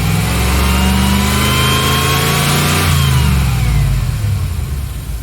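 A car engine is given a little gas, rising from a steady idle into a loud, close rev with climbing pitch that then eases back down, with no voices.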